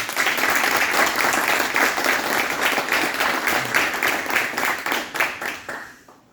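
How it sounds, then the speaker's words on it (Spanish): Audience at a youth seminar giving participants a loud round of applause, a dense continuous clapping of many hands that gradually thins and trails off. "Les pido un fuerte aplauso para todos ellos."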